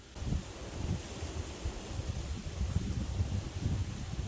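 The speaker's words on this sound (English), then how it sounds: "So that wind is freaking killer right now." Strong wind gusting steadily during an East Coast winter snowstorm, a constant low roaring rumble buffeting the microphone close by, with no voices.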